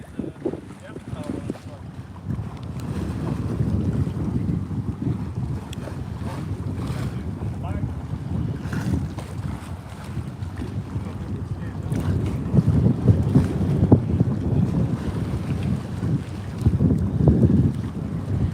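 A 45-foot yawl with main, jib and mizzen sails up moves under steady wind on the Great Lakes, with wind buffeting the microphone and water rushing along the hull, growing a bit louder toward the end.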